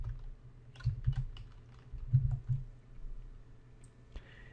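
Someone types on a computer keyboard while entering a function in Excel 2013, with soft scattered key clicks in small bursts and pauses, fairly close and quiet.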